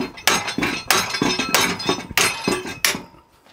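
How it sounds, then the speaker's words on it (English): Welded aluminium box section being broken apart: a series of loud, sharp metallic cracks and clanks, close by, roughly every half second to second with ringing between them, no voices. "Right, eventually it's come apart. It's actually snapped the metal, not the weld."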